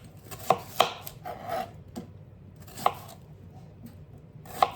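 A knife slices through potatoes and onion against a board in a home kitchen, several sharp separate cuts spaced irregularly, close and clear with no talking.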